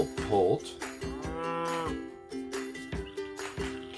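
A toy cow catapult gives out loud mooing calls, several drawn-out moos with short gaps between them, heard close and clear with no talking.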